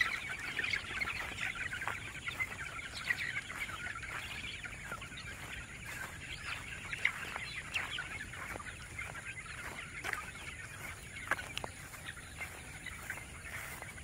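A flock of over 400 young chicks about one month and twenty days old, a dense continuous chorus of high peeping and soft clucking from many birds at once, steady and moderately loud.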